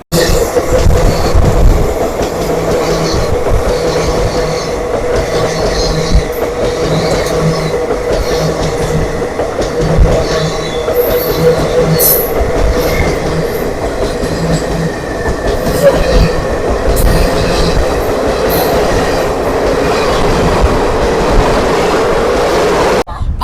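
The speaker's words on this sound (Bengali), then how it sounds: "ছেড়ে দিল আমরা ট্রেন কিষানগঞ্জ থেকে" Humsafar Express passenger train (03116, inaugural run) pulling out of Kishanganj station platform in Bihar, loud continuous rumble of wheels and carriages with rhythmic clatter and occasional squeal, heard from on board.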